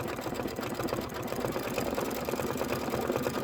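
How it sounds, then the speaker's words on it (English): A computerized embroidery sewing machine stitches a candy corn quilt design, a steady rapid mechanical chatter of needle strokes, moderately quiet and continuous with no voices. "So this right now is actually the start of the design. So we're stitching the knob fill"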